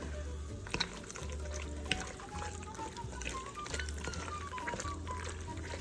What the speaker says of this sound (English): start with a cup of whipping cream